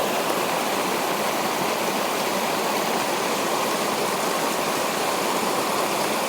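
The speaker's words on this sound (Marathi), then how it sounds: "बारीक पाणी पडतोय ना तिथं" Water falls in a thin trickle into a Konkan village river swollen by the first rain. It makes a steady, close, full rushing wash that runs unbroken throughout, with no voices.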